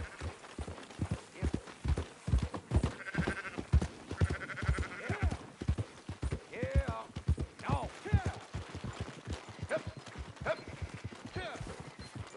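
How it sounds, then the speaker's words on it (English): Sheep bleating in the video game Red Dead Redemption 2, with several short bleats over steady hoof clip-clops of a horse, while people talk throughout. "Fine sheep."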